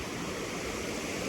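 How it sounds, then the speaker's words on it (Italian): The Ardo mountain stream in a valley bottom, clear water rushing in a steady, close, full wash of noise with no voices. "il torrente è molto carino, acqua limpidissima"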